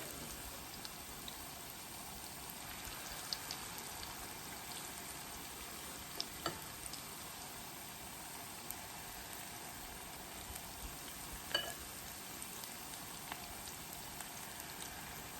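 Steady, soft sizzling and crackling of saltfish fishcakes frying in a cast iron skillet, a continuous hiss with a few faint pops, no voices.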